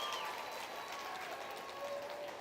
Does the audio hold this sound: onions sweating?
no